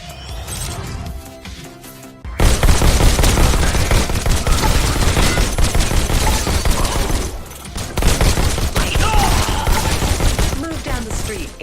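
Rapid bursts of energy rifle fire ring out in the Robo Recall video game, dense and loud automatic volleys running almost continuously after a brief quieter opening with a short break partway through.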